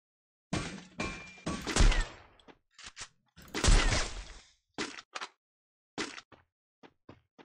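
Gunfire in the battle-royale game Free Fire, ranked mode: several separate bursts of shots and impacts with short gaps between them, fairly loud and close, with no talk over them.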